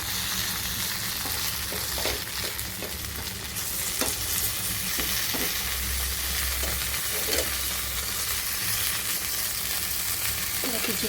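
Turmeric-leaf paturi fries in a pan, a constant close hiss and crackle of oil broken by several distinct knocks and scrapes as the parcels are stirred and turned.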